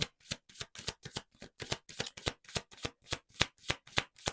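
A deck of tarot cards riffled and shuffled in quick, even bursts, roughly three or four per second, crisp and close, with no voices.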